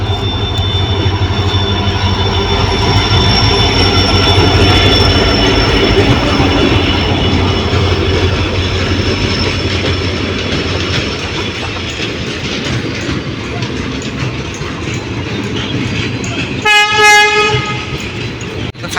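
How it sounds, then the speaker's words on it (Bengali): A late-running passenger train rolls into a station in Bangladesh, its loud, close rumble and rattle filling the scene before a sharp blast of the horn sounds near the end. "দেখ আমাদের ট্রেন এখন আসতেছে।"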